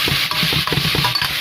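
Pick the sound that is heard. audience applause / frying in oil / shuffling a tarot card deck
frying in oil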